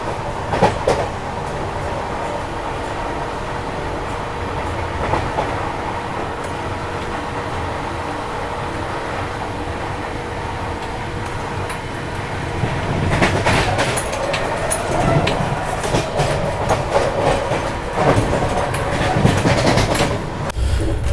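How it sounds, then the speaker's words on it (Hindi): Inside the Tejas Rajdhani Express running at speed, a steady rumble of wheels on rails carries on throughout, swelling louder with clattering rail joints and rattling in the second half. "अभी देखो स्पीड अप हो गई है काफ़ी अच्छी अपनी राजधानी एक्सप्रेस"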